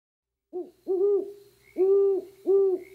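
An owl hoots three times in a quiet outdoor setting, each call a clear, mid-pitched tone separated by brief pauses, with a faint softer note just before the first; no talk.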